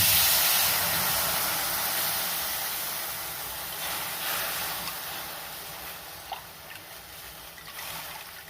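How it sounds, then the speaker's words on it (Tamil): A steady hiss and sizzle of tamarind extract poured into a hot pan over tempered spices, with faint trickling, fading slowly as the bubbling settles. "இப்போ அதே பேனில் நம்ம அந்த தாளிப்பெலாம் எடுத்து வச்சுட்டு நம்ம இந்த புளி காய்ச்சல் அதை ஊற்றிக்கலாம்"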